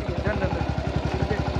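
A motorcycle engine idles nearby with a steady, even putter of rapid low pulses, and a voice seems to murmur faintly underneath.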